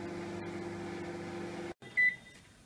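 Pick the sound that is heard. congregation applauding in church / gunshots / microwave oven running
microwave oven running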